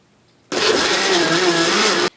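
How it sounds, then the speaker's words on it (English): Kitchen blender running at steady high speed, blending potatoes and water, loud and alone; starts abruptly, whirs continuously for about a second and a half, then cuts off. "We're going to put it on our blender, a helpful scientific tool for us today"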